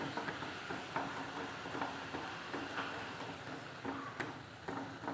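Sugar melting and bubbling in a pan for a beetroot Christmas cake gives a steady, close crackling sizzle with scattered light clicks throughout, and no voices.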